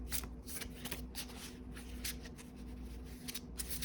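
A Darkness of Light tarot deck is shuffled by hand nearby, a run of quick papery card riffles and rustles in steady bursts with no talking.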